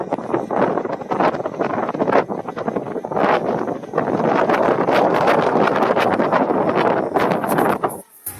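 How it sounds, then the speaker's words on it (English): Strong gusting wind, sustained near 20 mph with gusts to 30, buffets the microphone in loud rumbling blasts that swell and ease before a brief drop at the end. "It's 20 miles per hour right now, sustained winds, and gusting up to 30."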